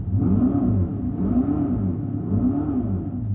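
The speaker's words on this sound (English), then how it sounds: "It sounds like an engine, and it might feel like an engine." A deep, steady engine-like rumble rising and falling in repeated revving waves, close and continuous with no talking; simulated engine sound from an electric Dodge Charger.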